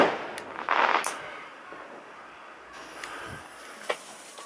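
A Zodiac Bad Boy Color Bomb firework bursts with a loud crackling blast lasting about half a second, then dies into faint outdoor noise with a few small distant pops.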